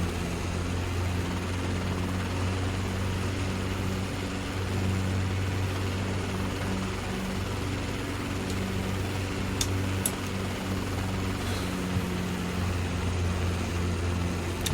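Robinson R22 helicopter engine in the CowanSim simulator, a steady droning hum with a low rotor throb, holding constant throughout with a couple of faint clicks partway.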